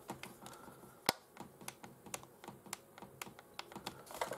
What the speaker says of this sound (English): I think that's clicking away.